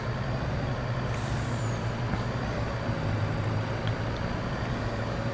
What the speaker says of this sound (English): So that is the truck